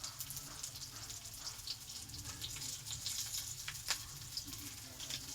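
Bitter gourd fries gently in a little oil with turmeric, giving a soft, steady sizzle with faint crackles and a few brief sharper pops, quiet and close, with no talking.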